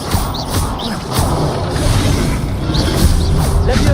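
An Expelliarmus disarming spell cast in the Hogwarts Legacy video game, loud crashing and whooshing impacts with several sharp hits over a continuous rumbling combat backdrop.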